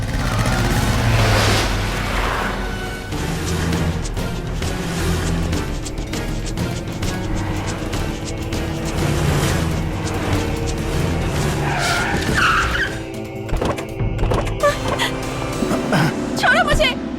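A car skids with screeching tires in a Hindi-dubbed South Indian action film scene, loud tire squeals and engine noise over a driving music score, with brief shouts in the mix.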